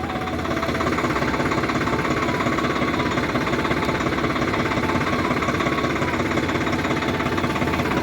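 Tractor engine idling on a rural farm, a loud, steady mechanical rumble with rapid repetitive knocking pulses, running unchanged throughout without speech.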